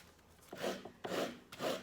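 Three rasping strokes of sandpaper scraping across paper to cut it, each a short rough rub with brief pauses between.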